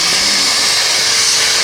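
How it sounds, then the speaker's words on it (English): A vacuum cleaner runs inside the cab of a mucky Massey tractor, giving a steady, loud, close whirring roar with no pauses and no voices. "Hoover."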